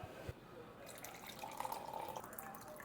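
Water pours from the faucet of a 1.1-gallon glass drink dispenser on a stand in a soft, steady trickling stream, faint and close, with quiet background hiss.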